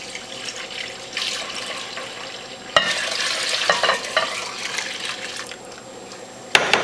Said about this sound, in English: what I'm going to do with the carrot juice is very carefully pour it into this bowl